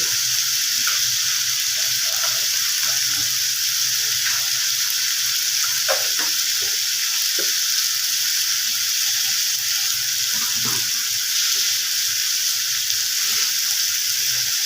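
Bottle gourd sautéing in a pan with salt and sugar for a vegetarian lau ghonto gives a steady, close sizzle. Occasional scrapes and clicks from stirring run through it, with no talking.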